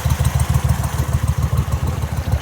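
A Mud Buddy dual-carb boat motor idles nearby on Caddo Lake, a loud, even, lumpy putter with a fast steady pulse and a faint mechanical clatter, running without pause.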